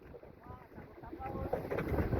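A boat engine sputters and keeps nearly stalling, running unevenly with a loose, rough putter, mixed with strong wind buffeting and water noise close to the microphone.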